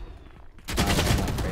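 Video game gunfire erupts after a quiet moment, a loud, dense burst of rapid shots and blasts that continues steadily to the end.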